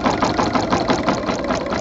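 A sewing machine fitted with a walking foot stitches through a quilt in a steady, loud, close mechanical whir with a rapid, even rhythmic chatter throughout.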